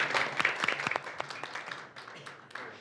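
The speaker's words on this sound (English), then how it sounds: "Let's give him a big round of applause." A small gathered audience gives a round of applause, scattered distinct claps with sharp individual hits at first that thin out and fade over a few seconds, fairly faint.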